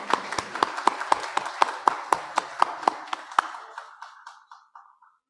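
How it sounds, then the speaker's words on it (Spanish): A single pair of hands claps about twenty times in a brisk, even rhythm for a speaker at a lecture on criminal law, loud and close, then the claps thin out and fade to silence. "pedimos, por favor, un fuerte aplauso"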